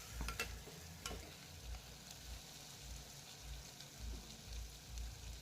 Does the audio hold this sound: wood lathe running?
no